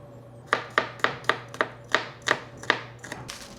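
Garlic being chopped with a knife on a cutting board, about a dozen crisp, evenly spaced knocks in a steady rhythm, close and clear with no talking.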